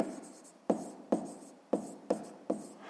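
Pen strokes scratch out a math equation on paper in short bursts, five sharp-edged scribbles spaced about half a second apart, quiet and close with no talking.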